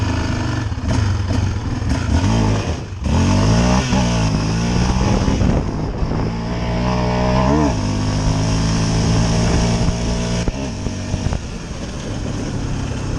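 A brand-new 2022 Yamaha Raptor ATV engine revs hard and launches, its loud harmonic drone rising and falling through several surges as the throttle is worked, close and continuous throughout.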